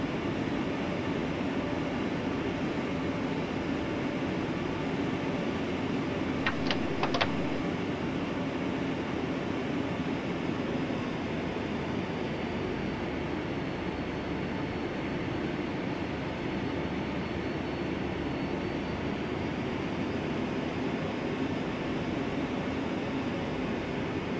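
A QualityWings 757-200 airliner taxiing in a flight simulator game, a continuous low engine rumble with a steady broadband whine, even and sustained throughout, with a couple of faint clicks and no talking.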